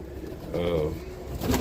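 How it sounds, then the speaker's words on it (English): Roller pigeons coo inside a loft, a soft low cooing that swells in the middle and again near the end, with a murmur of indoor background. "There's still some Bill Watson birds in here"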